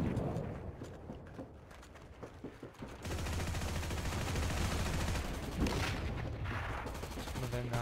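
Gunfire in the video game Heroes & Generals, with scattered sharp shots at first and then a dense, sustained burst of rapid firing at close range, mixed with game ambience.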